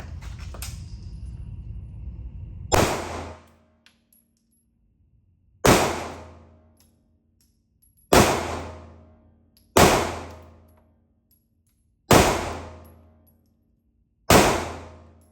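A CZ P10M pistol fires about seven sharp, loud single shots spaced a couple of seconds apart. Each report rings out and fades quickly, with silence between the shots.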